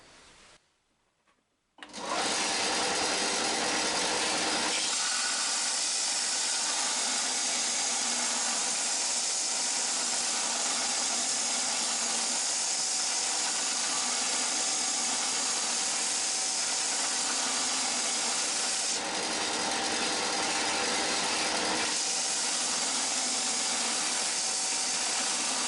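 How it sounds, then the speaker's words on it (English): A Parkside disc and belt sander runs up with a sharp start and then grinds steadily into a saw-cut aluminium block, a loud continuous abrasive hiss and whine with slight shifts in pressure. "Well, it fairly rips the material off, especially in aluminium."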